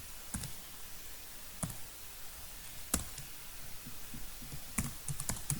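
Sparse, quiet keystrokes on a computer keyboard, single clicks and short bursts spaced a second or more apart over a soft background hiss.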